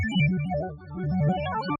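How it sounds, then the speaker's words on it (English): A bubbly, dry synth arpeggio from the Upstream preset on Steinberg's X-Stream, with no effects: quick stepping notes in a steady repeating pattern, close and alone. "So there was this really cool like bubbly synth ARP that I threw in"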